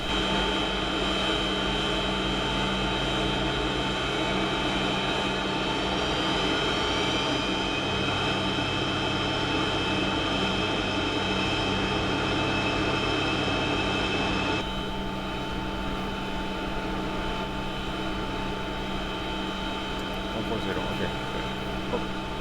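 Jet engines of a 1976 ex-Braniff Boeing 727 climbing out in a flight simulator game, a loud steady roar and whine filling the cockpit, dropping slightly in level partway through, with speech heard under it at times.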